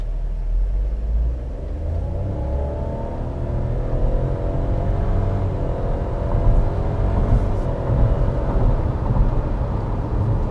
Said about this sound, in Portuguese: é realmente impressionante o jeito que esse carro aqui retoma